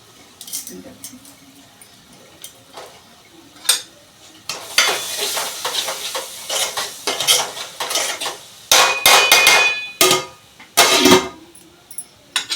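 Cumin and fenugreek seeds pounded by hand while cooking a fish curry: a run of sharp, close, irregular knocks and clatters that grows denser and louder partway through, with faint kitchen clinks between the strikes.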